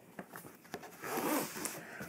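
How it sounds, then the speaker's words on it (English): The zipper on a Lion King stationery kit pouch is pulled open, with a few small clicks followed by one continuous rasping zip up close, quiet and without any voice. "Let's unzip this thing."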